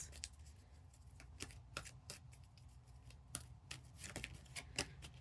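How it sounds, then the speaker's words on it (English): A deck of reading cards is shuffled by hand at close range in a quiet room, giving soft, repeated riffling and snapping card taps at an uneven rhythm, with no voices. "I'm now going to put this away and shuffle for the next."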